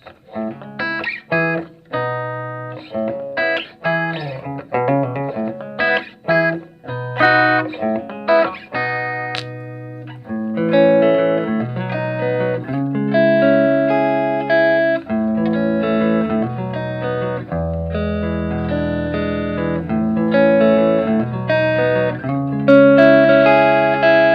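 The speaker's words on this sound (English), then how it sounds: "we can hear what the amp sounds like with just nothing but clean" A clean electric guitar plays chords and picked notes through a Fender Super Champ X2 amp with no effects. It rings out alone, steady and fairly loud.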